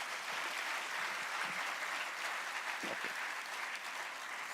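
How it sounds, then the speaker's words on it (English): Audience applause at a university welcome ceremony, steady dense clapping from a large crowd that holds at an even level for the full stretch. "Now you can clap."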